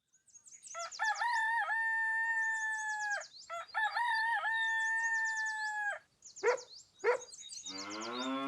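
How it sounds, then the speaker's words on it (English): A rooster's cock-a-doodle-doo crowing sits among loud farm animal calls, including long drawn-out cow moos, heard clearly with no talking in a children's farm story. "Who on the farm says cock-a-doodle-doo?"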